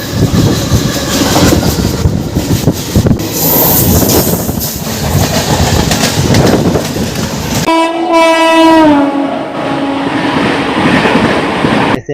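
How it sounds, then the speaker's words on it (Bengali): The SMVT Bengaluru Express passes on the adjacent line at speed, a loud rushing roar with rattling wheels, followed by a long blaring horn with strong harmonic tones that slides slightly lower as it passes. "এসএমভিটি বেঙ্গালুরু এক্সপ্রেস আমাদের ট্রেনকে ওভারটেক করে বেরিয়ে গেল রিভার্স লাইনে।"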